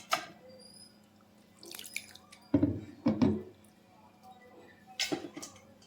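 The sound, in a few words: washed spinach being added into a mixing bowl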